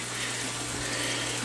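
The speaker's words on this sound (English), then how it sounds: "And that water comes out of there" Water pouring steadily out of an aquaponics grow bed, a continuous close rushing splash with an even hiss and no pauses or talking.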